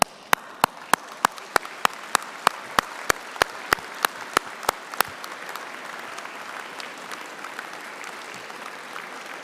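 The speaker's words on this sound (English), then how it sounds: "give them a round of applause" A graduation ceremony audience at City of Glasgow College claps in loud, steady unison beats for about five seconds, then loosens into a softer, sustained wash of scattered applause filling the hall.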